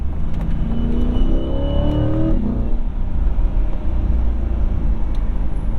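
2021 Chevrolet Corvette Z51 V8 on track, engine sweeping up then blipping on rev-matched downshifts, loud and close from inside the car, no talking.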